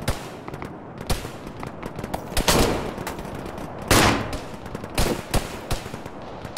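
Gunfire in the military video game Arma 3: scattered sharp shots and short bursts crack out at irregular intervals over a low battle ambience.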